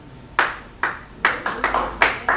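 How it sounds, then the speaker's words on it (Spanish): A congregation at a church service claps in sparse, uneven bursts, a handful of sharp claps spaced irregularly, fairly close with no talk. "Denle un aplauso a Cristo"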